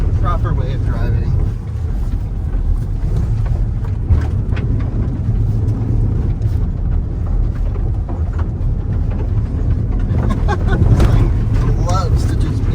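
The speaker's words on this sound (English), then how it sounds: "Big power, big skids, proper way of driving." A Rivian electric truck skids and drifts up a hill in a hill-climb challenge, with a loud, continuous rush of tire and drivetrain noise that swells briefly near the end.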